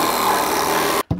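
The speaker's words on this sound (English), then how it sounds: "I'm just gonna cut the nails" A power saw cuts steady and loud through the nails holding a wooden wall stud during bathroom framing, a continuous buzzing grind that stops abruptly near the end, followed by a brief knock.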